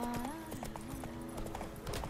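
Horse hooves clip-clop steadily in The Witcher 3: Wild Hunt game, a brisk repeating beat close up under game music, with a brief whinny and someone talking over it.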